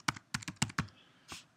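Keystrokes on a computer keyboard while editing a FileMaker Pro script on a Mac: a quick run of about five or six crisp, close taps, then a short pause and one final softer press.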